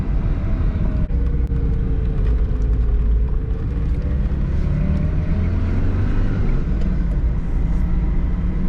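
A 1998 Tofaş Doğan's engine pulls in second gear on a winding mountain road, a steady close drone with road rumble beneath and a slight rise and fall in pitch as the revs shift.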